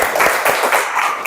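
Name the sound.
classroom applause for a student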